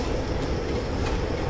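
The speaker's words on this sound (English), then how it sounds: "Got another train, it is." A passing train in Train Simulator on the Settle to Carlisle line, heard from a steam locomotive cab as a steady, close rumble of wheels and rolling stock over the rails.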